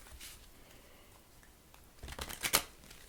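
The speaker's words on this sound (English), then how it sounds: "Let's pull our other two cards." Tarot cards being drawn from a deck, a few soft papery slides and snaps near the end after quiet, close and fairly faint.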